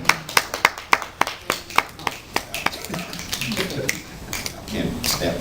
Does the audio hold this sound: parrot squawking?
no